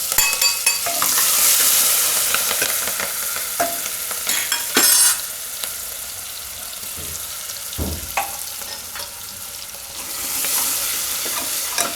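Green chillies and garlic hit hot oil with cumin on a lowered flame for a mixed dal and bottle gourd curry, a loud hissing sizzle with bursts of spattering and stirring scrapes, no voices.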